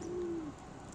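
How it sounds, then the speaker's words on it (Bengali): A single soft, low pigeon coo rises and fades within about half a second, close by, followed by quiet background. "কবুতরগুলো মাশাআল্লাহ অনেক সুন্দর, দেখেন কত ভালোবাসা ওদের।"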